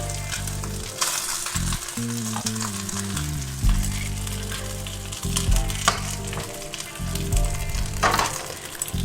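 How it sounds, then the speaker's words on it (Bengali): Rice is stirred into hot ghee with fried cumin tempering, giving a continuous close sizzle with occasional stirring scrapes, all under steady background music. "এবার আমি ভাতটা আস্তে আস্তে মিশিয়ে দিচ্ছি।"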